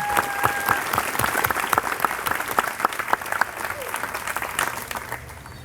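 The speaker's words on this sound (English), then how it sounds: "Let's give one more round of applause to our speakers and performers today." Dense, sustained applause from a middle school closing-exercises audience honoring speakers and performers, many close hands clapping steadily for several seconds with a brief tone early on.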